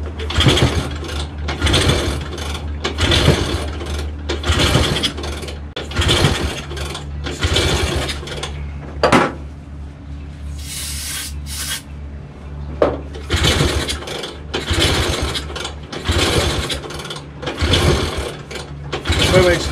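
A small tuk-tuk engine with its spark plug removed is cranked repeatedly, giving a rhythmic series of loud mechanical pulls with a short pause partway through and brief voices in between.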